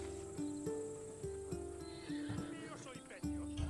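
In Assassin's Creed Odyssey, a horse neighs and whinnies amid soft hoof clops and background music, fairly faint and mixed under ongoing conversation.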